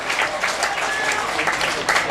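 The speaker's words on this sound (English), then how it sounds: "And he gets a round of applause by everyone" A football crowd at a York City v Aldershot Town match applauds an injured, bandaged player as he leaves the pitch, a steady, dense wash of clapping that holds evenly throughout at moderate distance.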